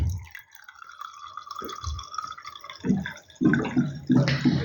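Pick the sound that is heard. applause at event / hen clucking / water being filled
water being filled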